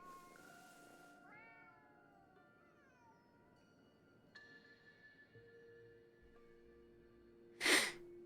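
A cat in Ghostwire: Tokyo gives several drawn-out, rising meows, each fading before the next, before a sharp, brief sneeze-like burst near the end, all fairly quiet against a soft background.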